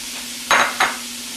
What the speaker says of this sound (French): Et là, on fait rissoler.